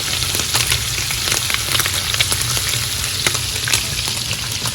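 Scallops searing in butter in a hot pan give a loud, dense, continuous sizzle with crackling pops scattered throughout, close up and alone with no talking.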